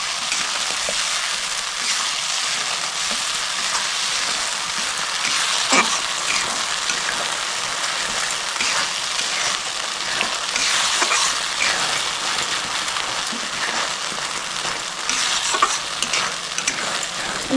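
Fish curry of lilontika fish sizzles steadily in a pan as a mustard-poppy paste is stirred in, a continuous close frying hiss with soft scraping strokes throughout and no talking.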